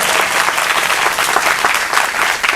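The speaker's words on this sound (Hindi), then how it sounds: "सब लोग ताली बजाइए ब्रदर" Loud, steady applause from a church congregation for a singer and musicians at a gospel service in Bengal, dense clapping sustained throughout without pause.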